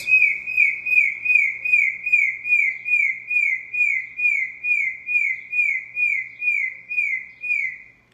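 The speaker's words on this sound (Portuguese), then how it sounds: "É o passarinho, tá, gente? Cantando." Small bird singing close by, a steady string of repeated bright whistled notes in an even rhythm, loud and alone against a quiet room.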